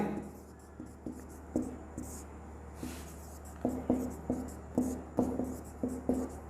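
Chalk or marker strikes a classroom board in short, quiet taps and strokes, irregular and close, with a faint steady hum underneath and no clear talk.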